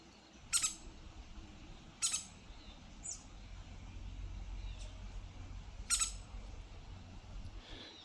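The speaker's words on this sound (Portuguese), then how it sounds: "Pica-pau de cabeça vermelha." A red-headed woodpecker calls near rural farmland, giving three short, sharp, moderately distant calls spaced a couple of seconds apart over a low, steady background rumble.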